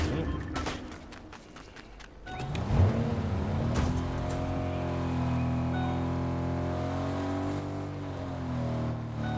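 A car engine in Fortnite starts up and revs, its droning pitch rising and wavering as it runs steadily close by, after some scattered clicks and thumps, with speech over it.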